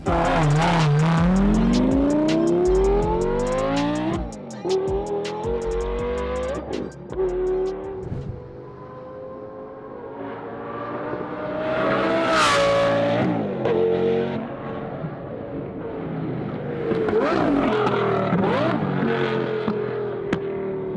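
A Lamborghini Gallardo with a newly installed engine makes loud flybys, its engine revving hard with rising and falling pitch sweeps as it roars past up close, then fades and surges again.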